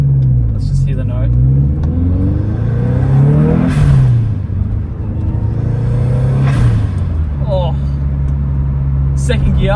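The engine of a Subaru WRX GC8 revs up and down through several rising and falling sweeps, a loud, close rumble with the car driving hard. Talk comes in under the engine.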